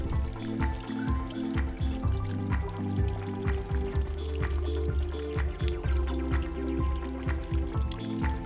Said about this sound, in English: we'll be giving it a good soaking to help settle it in